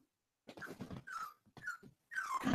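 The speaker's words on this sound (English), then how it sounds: "But yes, there's a dog here." A young dog, only a few days in a new home, whimpers and yips in several short plaintive cries with brief gaps between them, close by, with no talking.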